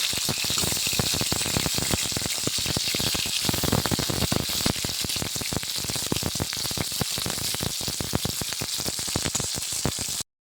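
Steady, close crackling and spitting of eggs frying in hot oil in a pan, continuous and fairly loud for the whole stretch.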